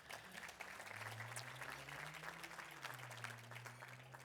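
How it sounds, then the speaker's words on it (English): Audience at a housing development fund's annual benefit breakfast applauding, a dense, sustained round of clapping with a low hum and murmur beneath it. "So I want to give all of you a big round of applause as well"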